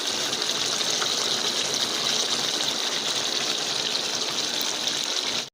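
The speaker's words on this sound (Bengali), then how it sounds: "জল দিয়ে দিচ্ছে" Water pours into a pot of fish head curry in a steady, close, rushing stream that holds constant for several seconds and then cuts off abruptly, with no talking.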